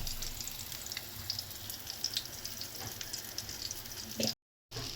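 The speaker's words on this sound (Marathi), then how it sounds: "असं प्रत्येक पीसला आपण प्रॉपर कोटिंग करून फ्राय करू." Coated pieces of mushi, a small shark, frying in hot oil, with a steady soft sizzle and crackle, fairly quiet and cut by a brief gap near the end.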